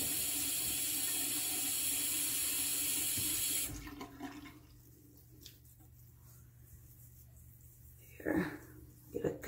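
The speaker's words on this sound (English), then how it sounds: "I run it under water just to get the lather going" A bathroom tap runs steadily while soap is lathered for face washing, a hissing stream that cuts off partway through, leaving a quiet room with faint handling noises.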